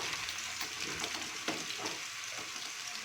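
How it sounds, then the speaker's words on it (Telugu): Boiled and dried chana dal deep frying in hot oil, a steady close hiss and crackle of bubbling that continues alone for a few seconds. "నూనె బాగా వేడైన తర్వాత మనం ఉడికించి ఆరబెట్టి ఉంచుకున్న శనగపప్పును ఆ నూనెలో వేసుకుని ఫ్రై చేసుకోవాలి"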